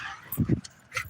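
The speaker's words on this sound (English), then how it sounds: "stop barking" A dog gives two quick close barks outdoors beside a vehicle, followed by a softer yip or whimper, with faint voices nearby.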